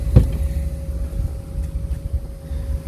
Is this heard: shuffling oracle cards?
no